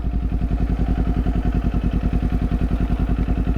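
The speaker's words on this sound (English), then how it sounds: "Pulling the clutch, you hear that? We let it coast down to a stop." Motorcycle engine with the clutch pulled in, coasting toward a stop: a close, steady pulsing idle-like thrum with a regular mechanical beat and no voices over it.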